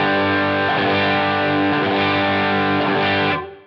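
Electric guitar played through a Line 6 Helix with a distortion pedal on, a loud, heavily distorted sustained chord that rings steadily and then cuts off abruptly.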